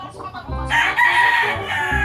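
A three-month-old White Kelso cross rooster crows nearby, one loud drawn-out call with a raspy tone and some clucking around it.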